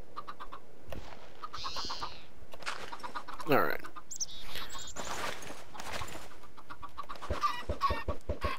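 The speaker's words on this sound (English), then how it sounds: "now that I've put a bunch of chickens in here" Several chickens cluck and squawk in Minecraft, a scatter of short clucks and a few higher calls spread across the stretch at moderate loudness, with soft background voice sounds.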